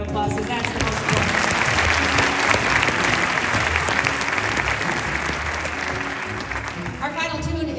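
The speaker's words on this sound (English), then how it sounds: "So give everyone a round of applause, because that's the most important." An audience applauds the students after a jazz band performance, a dense steady roar of many hands clapping loudly for several seconds with faint crowd voices mixed in.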